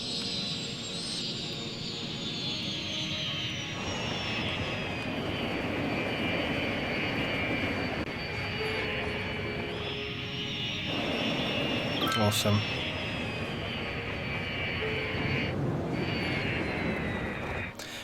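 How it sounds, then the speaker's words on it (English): In the Cities: Skylines city-building game, a jet airliner roars in to land with a sustained, high whining engine tone over a broad rumble, lasting throughout, while someone speaks briefly over it. "Oh, jet coming in, guys. Jet coming in."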